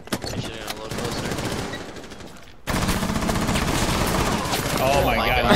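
Rapid automatic gunfire in Rainbow Six Siege, sustained bursts of loud close shots that cut off briefly, then resume as a dense, continuous barrage.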